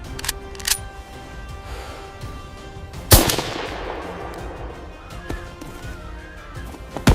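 A single loud rifle shot cracks out and rolls away in a long echoing tail, over faint outdoor background noise.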